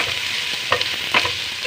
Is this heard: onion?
yes